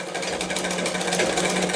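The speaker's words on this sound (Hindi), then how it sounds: "यहाँ पर मैं एक सिलाई चला करके दिखा रहा हूँ। ये सिलाई हम चलाते हैं" A domestic sewing machine runs steadily through a stitch, its needle mechanism chattering in a fast, even rhythm close to the mic, with no talking over it.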